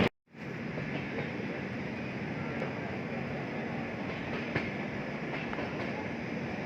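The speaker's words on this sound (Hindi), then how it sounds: "और 2 मिनट रुकने के बाद अपनी ट्रेन यहाँ से डिपार्च ले रही है।" The Gorakhdham Express pulls out of Rohtak station with a steady, fairly quiet rolling rumble of the rail cars and faint rhythmic wheel clicks throughout.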